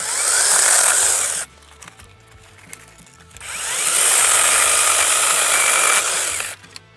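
An InoKraft BB Shark 12v mini chainsaw cuts through a tree branch in two loud, close, buzzing bursts, the first about a second and a half, the second nearly three seconds, separated by quieter rustling.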